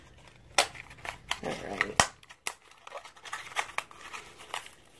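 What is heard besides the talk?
scissors cutting open a blind box package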